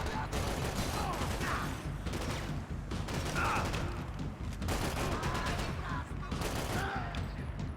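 Continuous gunfire fills a Max Payne 3 firefight, dense overlapping shots and clatter at steady loudness throughout, with faint voices mixed in.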